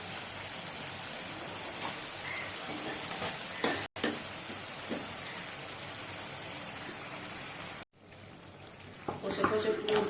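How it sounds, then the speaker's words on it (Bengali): Eggplant cooks dry in hot oil in a pan, a soft continuous frying sizzle with faint scraping stirs, mostly under a person talking nearby. "বেগুনে জলটা আমি কিছুই দেবো না, কষি কষি বেশ শুকনো শুকনো একদম তেল ছেড়ে যাবে"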